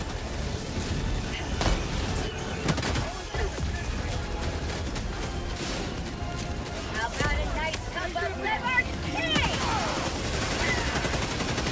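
A Gatling gun firing in the video game Helldivers 2, rapid clattering bursts mixed with explosions and battle noise that run the whole stretch, with players talking over the din.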